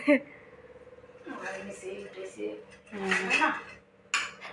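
Dishes and steel cutlery clink and scrape as a mother serves rice at home, the clatter coming in short bursts near the start and end, with a voice talking over much of it.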